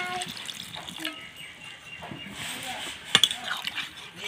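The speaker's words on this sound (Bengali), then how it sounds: "এবার দিয়ে দেবো জল" Water splashes into a pot of boiled mixed vegetables in a home kitchen, a soft running pour with a few sharp drips, under quiet talk.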